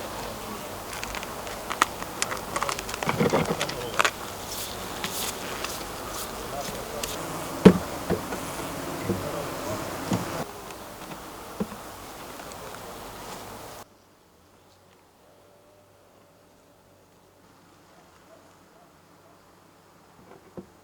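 Honey bees buzzing around a hive in an apiary while the hive is checked and frames of comb honey are handled: a dense hum with knocks and clatter, then near silence toward the end.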